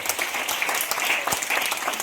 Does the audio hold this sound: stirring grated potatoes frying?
no